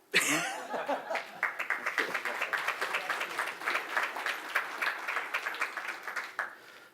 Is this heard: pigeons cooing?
no